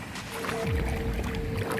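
Close, faint splashing and swishing of paddles moving a boat through river water, with light wind noise.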